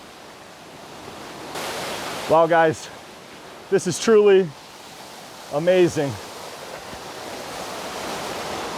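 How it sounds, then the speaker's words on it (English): A flowing waterfall beside ice cliffs gives a steady, broad rushing roar throughout, with someone speaking in three short bursts over it. "now that I know the waterfall is flowing"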